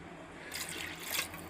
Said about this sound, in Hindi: तो मैं यहाँ पर 5 गिलास डाल रही हूँ, क्योंकि 1 गिलास गोश्त मेरा छोड़ेगा पानी।